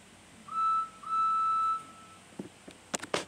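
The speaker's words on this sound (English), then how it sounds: "Thomas heard a familiar whistle that he knew of." Toy train engine whistle, two clear steady toots, a short one then a longer one, followed by a few faint clicks and knocks.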